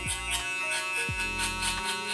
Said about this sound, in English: the same shaver that we used to set the guideline, I'm gonna go up into that stubble mark right there